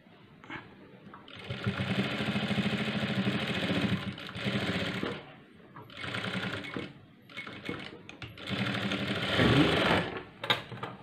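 A sewing machine stitching piping on a churidar sleeve, running close and steady in three bursts of rapid mechanical whirring, separated by brief pauses.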